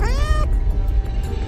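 A black cat gives one loud, close, rising-then-falling meow, followed by a low background hum with no voices.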